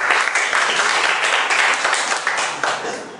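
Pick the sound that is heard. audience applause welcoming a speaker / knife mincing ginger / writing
audience applause welcoming a speaker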